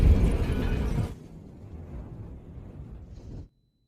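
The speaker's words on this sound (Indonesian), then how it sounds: "sebuah ledakan terjadi di tempat itu" A film explosion strikes as a loud, heavy low rumble for about a second, then gives way to a quieter, rumbling tail that cuts off abruptly.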